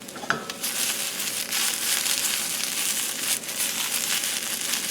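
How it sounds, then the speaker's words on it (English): Chicken of the woods mushroom sautés with onions and garlic in oil, producing a loud, dense sizzle with crackling bursts and a sharp clatter near the start, steady and close. "I like to saute my onions and garlic first so that I can get the garlic flavor throughout the oil."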